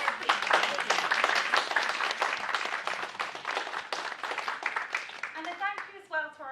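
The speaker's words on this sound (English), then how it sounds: "Big round of applause for our speakers, please." An audience at an alumni panel on human nutrition applauds the speakers with dense, sustained clapping heard from within the room, fading near the end as voices come in.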